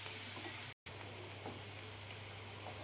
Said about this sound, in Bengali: পেঁয়াজটা ঠিক এভাবে ভেজে নিতে হবে